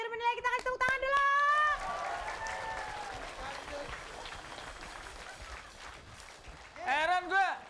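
A studio audience at a comedy TV show bursts into sustained applause for several seconds, with voices heard just before it starts and again as it fades.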